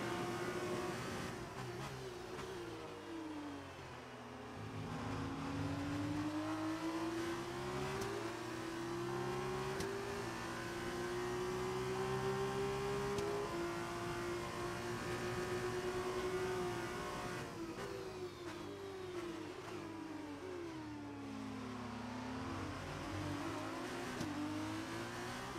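F1 race car engines in the F1 2019 video game whine continuously at high revs, pitch rising and dipping through gear changes and corners, with occasional other cars close by.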